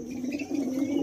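Pigeons coo briefly from a home coop, with a soft, steady, low throaty murmur close by and no talk.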